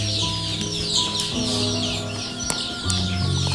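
Local hens and chicks on a small poultry farm cluck and chirp steadily and close by, with a sharp squawk partway through and wind faintly in the background.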